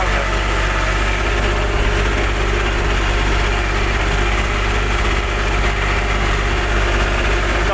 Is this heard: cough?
no